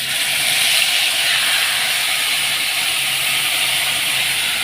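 Fish and a splash of water hit a hot pan in a home kitchen for a Bengali dish, giving a loud, steady, broad hiss of frying that holds evenly throughout without a break.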